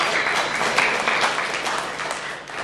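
Applause from a dinner audience honoring the host's wife, a steady dense wash of clapping held at even loudness throughout, close and full, with no voices over it.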